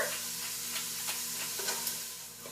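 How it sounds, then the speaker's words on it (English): Finely diced onions and carrots sauté in olive oil with a soft, continuous sizzle and faint crackles, quiet and close with no talking. "the carrots and onions have been sizzling, simmering, and sauteing for a little while"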